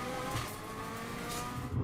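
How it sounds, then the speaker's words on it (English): Gallagher's time attack race car driving at Superlap Scotland, a steady, loud engine drone with a slight surge near the end, heard alone without talk. "car sounding sensational"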